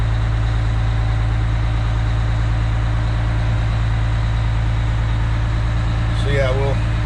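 A fire truck's supercharged and turbocharged 350-horsepower V6 idles steadily up close, its low rumble holding constant throughout, with a brief higher whine or squeal rising near the end.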